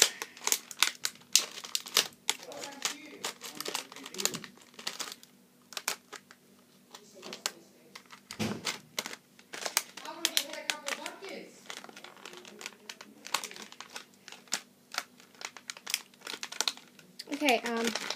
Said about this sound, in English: Sorry it's taking so long to open this. The packaging is really tricky to get.